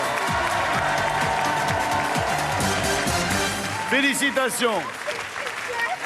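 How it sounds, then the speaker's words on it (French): A TV game show studio audience applauds, dense steady clapping heard under a host's excited voice, with brief musical swells near the end. "Je vais vous proposer de partir avec notre ami Igor sous les applaudissements de la foule en délire."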